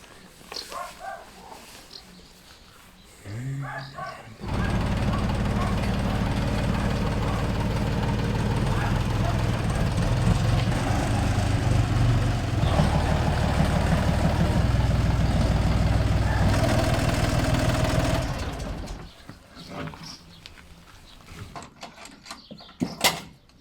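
A tyre-mounted tractor idles with a steady, loud mid-to-low engine drone for most of the stretch while a conveyor potato digger is tested, set between quieter moments with voices at the start and end.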